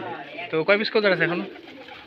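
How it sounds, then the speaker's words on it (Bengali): Rajshahi Giribaz pigeons coo close by in a loft, soft low calls mixed in beneath a voice talking throughout. "দেখেন বাজির কবুতর গুলো"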